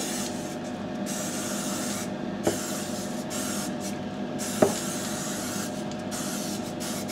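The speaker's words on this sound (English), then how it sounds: "As you can see, my can's spluttering a little bit." An aerosol spray paint can lays a base coat over an MDF wargaming model, its steady close hiss running continuously with two brief sputtering pops from a clogging nozzle.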